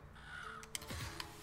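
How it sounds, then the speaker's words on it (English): Crows caw in a video game, giving two brief, sharp cries over a quiet, faint backdrop. "Evil birds."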